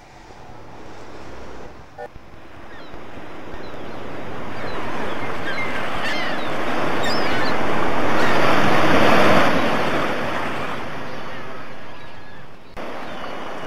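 Ocean waves crash and roll in a continuous roar, swelling louder toward the middle and easing off, with no voices.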